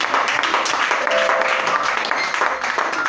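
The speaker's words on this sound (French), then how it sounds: "on acclame le Seigneur Jésus" A church congregation bursts into applause to acclaim the Lord Jesus during a worship service, a steady wash of many hands clapping with voices mixed in underneath.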